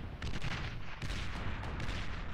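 Thud artillery unit firing in the strategy game Beyond All Reason: a dense run of booming shots and impacts, loud and close, with a sharp burst near the start and another at one second, overlapping explosions filling the whole stretch.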